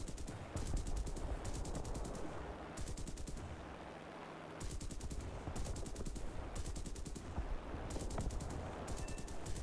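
A Corsair F4U-1C fighter's cannons fire in War Thunder, with several loud, rapid bursts of gunfire separated by short gaps over a constant engine drone.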